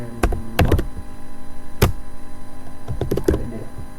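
Someone types a command on a computer keyboard, short bursts of clicky keystrokes with a pause between them, close and distinct over a low steady hum.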